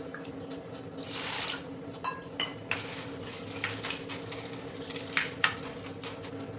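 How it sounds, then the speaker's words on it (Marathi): Soaked chana dal is rinsed with water in a metal pot for ladoos, with steady watery swishing and a few sharp clinks and knocks against the pot, close by and without talk. "डाळीला स्वच्छ धुवून घ्यायचं आहे अगोदर"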